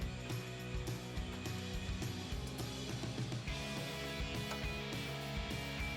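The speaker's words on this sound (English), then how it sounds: "go get those pipes started and clip in the hangers to our Mustang" A ratchet wrench clicks in fast, repeated bursts while fastening exhaust pipes and hangers under a 2015-2020 Mustang GT, the close, rhythmic pawl chatter continuing over a low background hum.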